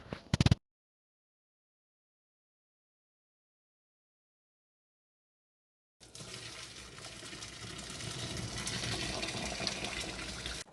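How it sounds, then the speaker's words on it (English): Water is drained from a pot of boiled salted pigtail and fresh beef, a brief splash followed by silence, then a steady pouring gush that builds and continues to the end. "Now let's drain this water and we'll be adding some fresh water."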